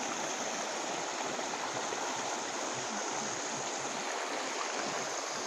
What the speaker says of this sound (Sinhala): මේ තියෙන්නේ අපේ ගෙට පහලින් තියෙන පොඩි වතුර පාර